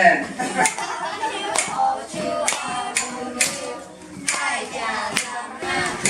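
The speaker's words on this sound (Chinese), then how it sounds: "那个好像在鼓掌哎" Children clapping during an outdoor school parent-child mother-tongue learning trip, with scattered, irregular claps mixed with ongoing voices and chatter.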